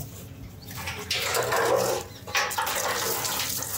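Old fuel pours out of a Peugeot gas tank in a continuous liquid splash that swells midway and keeps running, close and fairly loud with no talk.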